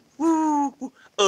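A human voice imitates a wood pigeon's call with a close, loud hooting coo: one long held note, a short second note, then the start of a third.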